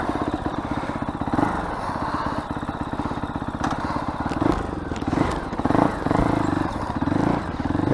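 A Fantic Caballero Scrambler 500 motorcycle runs at idle close by, its single-cylinder engine thumping in a fast even pulse with a few throttle blips and some mechanical clatter, a brief voice heard over it.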